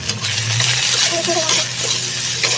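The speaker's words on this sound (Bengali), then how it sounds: "আলু ভাজছি" Potatoes fry in oil in a home kitchen pan, a close sputtering sizzle with clattering scrapes and taps of stirring, and brief faint voices in the background.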